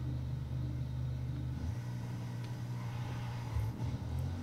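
Bugatti in Forza Horizon 5 pulling away from a standstill in first gear, a steady loud low engine rumble that holds even, then briefly dips and resumes.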